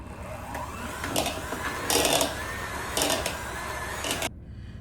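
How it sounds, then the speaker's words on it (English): A hand mixer whirs through mashed cauliflower in a bowl, a close continuous motor hum with a few louder surges as the beaters dig in, stopping abruptly near the end. "Now I'm going to use my hand mixer to blend it all together."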